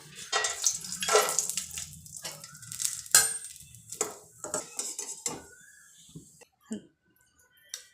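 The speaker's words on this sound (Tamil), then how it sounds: "முந்திரி திராட்சை இதோட வறுத்து எடுத்துக்கலாம்." Cashews and raisins fry in ghee in a pan for bottle gourd halwa. Light sizzling sits under clattering spoon-on-pan scrapes and clinks, busy at first and then thinning to sparse taps.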